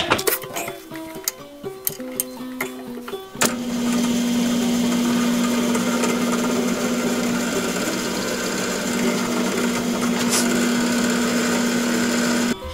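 Cordless drill boring into metal while fabricating a banjo tailpiece: a few clinks and short whirs first, then a long steady high-pitched grinding whine held for about nine seconds, close and loud, no talk.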